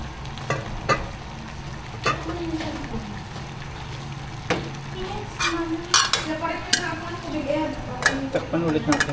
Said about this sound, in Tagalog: Ilagay na po natin yung ating olive oil.